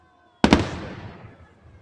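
A Victory Day fireworks salute in Kaliningrad bursts close by with two sharp, loud bangs in quick succession after a quiet start, followed by a long crackling, fading rumble.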